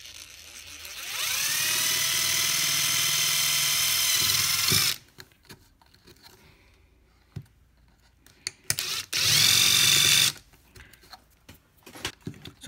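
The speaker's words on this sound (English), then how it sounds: "I'm gonna get my drill bit to make a small little hole" A power drill bores a small hole in an Apple TV 4th generation casing during a 12-volt conversion. It whines steadily for about four seconds, then clicks and rattles, and a second shorter burst of drilling follows.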